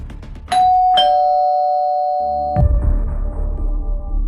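An indoor calling bell chimes two bright electronic tones in quick succession, then a sustained ringing tone holds before giving way to low, rumbling household noise.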